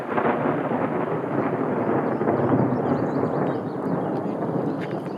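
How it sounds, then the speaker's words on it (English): A thunderclap rumbles through an outdoor garden during a mid-June storm, a sustained loud low roar filling the whole span with no talking over it. "that clap of thunder suggests to me that brings us to the end of our walk"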